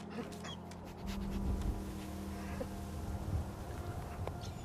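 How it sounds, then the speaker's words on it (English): Dogmeat, the German Shepherd companion in the video game Fallout 4, pants and whimpers softly over a low background hum, with no speech. "He's a dog."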